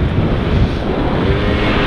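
Scooter cruising at about 50 km/h after an engine overhaul, a loud continuous roar dominated by wind buffeting the microphone, with engine noise buried underneath.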